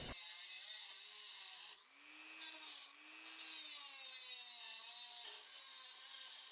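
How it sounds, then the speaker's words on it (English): A Dremel rotary tool with a cutoff wheel slices through the rungs of a clamp, a high whining grind held steady with two brief dips in pitch as the wheel bites, loud and close throughout. "I'll use that same Dremel tool cutoff wheel to just make a slice on one side"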